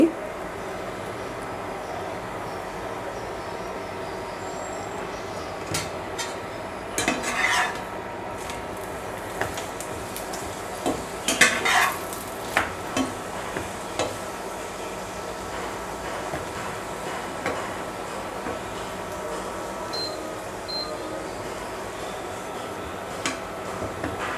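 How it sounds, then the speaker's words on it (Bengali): A paratha fries in ghee in a pan, giving a low, steady sizzle with occasional clicks and taps from turning it, and a voice speaks intermittently over it. "পরোটা ফিফটি পার্সেন্ট ভাজা হয়ে গিয়েছে এখন দিয়ে দিচ্ছি ঘি"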